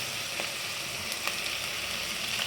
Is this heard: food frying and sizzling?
yes